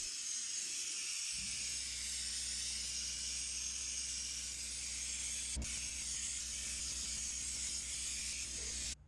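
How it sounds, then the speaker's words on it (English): Fluid Film undercoating hisses from a spray can onto a truck's underbody and steering parts, a continuous loud, close, steady spray lasting almost the whole time, broken by one brief sharp click. "I spray the steering components too."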